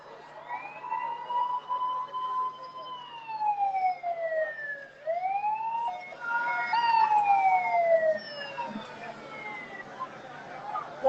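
A fire truck siren wails in rising and falling sweeps, loud and fairly close, through a street in Cap-Haïtien, Haiti, with a faint road rumble underneath and voices murmuring in the background.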